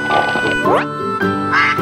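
A toy duck's quacking comes in repeated nasal, honking calls that sit loud and close, each a short burst with a falling sweep.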